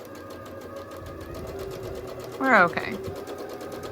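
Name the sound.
sewing machine sewing a quilt block seam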